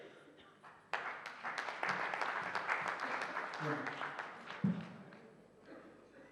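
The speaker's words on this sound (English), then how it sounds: "let's give a warm round of applause as we invite Hon'ble Mr. K.C. Pant" Modest, uneven applause from a seated audience at an international congress as a dignitary is invited to speak, individual claps distinct and fairly distant, with a voice and shuffling sounds mixed in.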